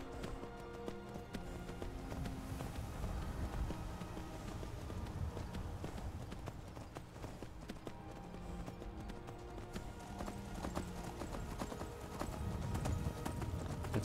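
Horse hooves pounding in a steady galloping clip-clop while riding through the landscape in the video game The Elder Scrolls V: Skyrim, continuous and fairly loud over a soft music bed.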